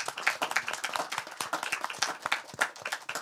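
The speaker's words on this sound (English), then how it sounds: "So a big round of applause to everyone." Applause for the presenters at the close of a Just City urban design event, a modest group clapping with distinct individual hand claps, steady and fairly close, lasting the whole stretch.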